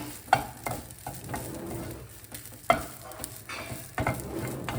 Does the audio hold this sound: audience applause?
no